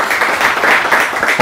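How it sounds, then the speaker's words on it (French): A crowd applauding steadily, a dense wash of clapping that holds at an even level throughout. "Ça forcément, ça s'applaudit, mesdames, messieurs."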